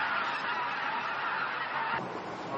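A flock of white-naped cranes in rice fields calls at once, making a dense, continuous chorus of honking cries, fairly loud and steady throughout.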